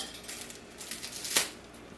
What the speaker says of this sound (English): break it in half and toss it in